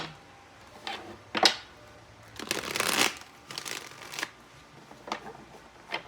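Tarot cards are shuffled by hand in several quick riffling bursts, close and crisp, with pauses between them.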